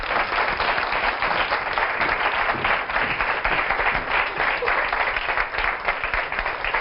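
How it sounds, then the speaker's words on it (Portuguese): Loud, dense applause from a large television studio audience continues without a break, with no voices rising above the clapping. "Uma salva de palmas para ela"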